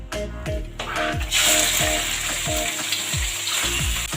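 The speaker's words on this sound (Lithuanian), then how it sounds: "Ir sudėsim, tegul kepa mūsų vištieną." Chicken sizzles in oil in a Spanish paella pan, a steady frying crackle punctuated by regular scraping strokes of a utensil stirring the pieces, close and continuous.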